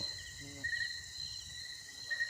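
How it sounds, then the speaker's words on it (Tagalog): A faint, steady high-pitched bee drone with thin whining tones over soft background hiss in a forest. "Ang daming bubuyog."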